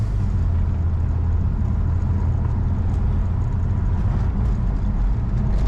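A car with an N54 engine and a DCT gearbox swapped in from a six-speed automatic, driving on the road. A loud, steady engine drone and road rumble is heard from inside the cabin, with no distinct shift break standing out.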